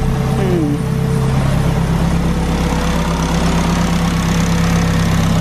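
A K-swapped Mazda RX-7 FD engine idles roughly on three cylinders, a loud, close, steady low rumble with an uneven, lumpy pulse throughout.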